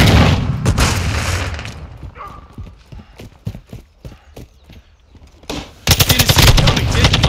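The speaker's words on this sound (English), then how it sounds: "Throwing grenade." In a Call of Duty Modern Warfare 2 multiplayer match, a loud grenade blast and bursts of gunfire open the scene, then sharp scattered shots follow before rapid automatic fire erupts again near the end.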